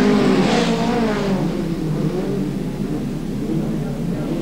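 A field of 1980s speedway race cars roars away from a green-light start, a loud, dense engine drone with rising and falling revs. The pack sounds close at first, and a commentator talks over the noise.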